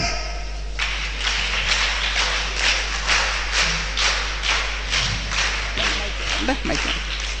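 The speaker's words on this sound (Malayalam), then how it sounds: "ഒരു ക്ലാപ്പ് കൊടുത്തേ" Audience clapping at a youth gathering, a steady burst of many hands that starts abruptly and carries on for several seconds, fairly close and full, with faint voices murmuring beneath it.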